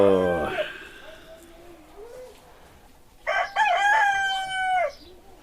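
Roosters crow twice, one call fading at the start and a louder, nearer full crow following, with a person speaking quietly between them.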